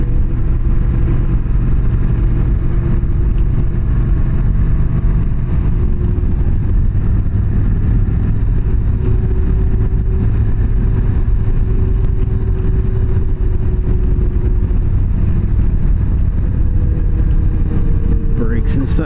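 A motorcycle engine idling as it warms up, a loud, steady low rumble close by that holds unchanged for the whole stretch without revving.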